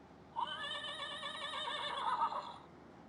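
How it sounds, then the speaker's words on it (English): A Fisher Price See N Say farm toy plays a horse neigh, one long wavering electronic whinny lasting a few seconds, close and clear with no talking. "This is the horse."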